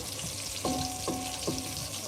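Chopped green garlic sizzles in hot oil in a pan, with a steady crackling fry and a few stirring scrapes close by.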